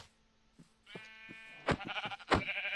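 In the video game Minecraft, a faint sheep bleat starts things off, then two louder, nearby sheep bleats follow in quick succession.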